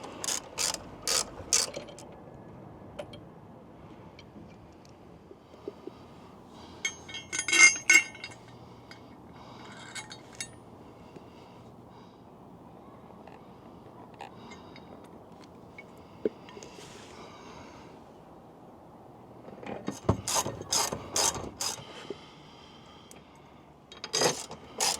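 Ratchet wrench tightening SBC saddlebag guard bolts on a 2025 Harley-Davidson Low Rider ST, close bursts of quick clicking pawl ratchets at the start, middle and end, with metallic clinks and quiet gaps between.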